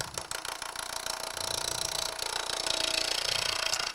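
Gouge cutting a wood bowl on a lathe while the bevel rides the surface, giving a steady, dense, close scraping and whirring drone with fine rapid chatter that stays loud and even throughout, with no talk.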